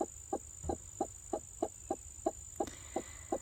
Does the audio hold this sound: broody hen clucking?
yes